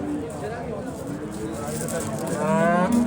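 A Simmental cow at a cattle market lets out a low moo near the end, over steady crowd noise and nearby talk.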